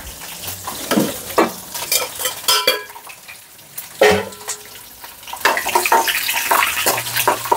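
Mirchi bajji, chillies in batter, frying in oil over a low flame in a cloud kitchen, with a soft, steady sizzle broken by brief stirring and clinks of a ladle against the pan.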